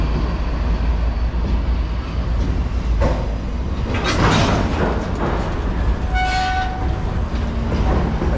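A Norfolk Southern train rumbles past close by, a continuous loud roar with a short horn blast near the end.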